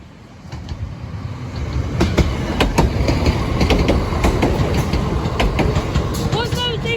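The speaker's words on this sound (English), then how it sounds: "Train's approaching." A two-coach train passes over the Sleaford West level crossing, a close rumbling roar with rhythmic clickety-clack of wheels over rail joints and a brief squeal near the end.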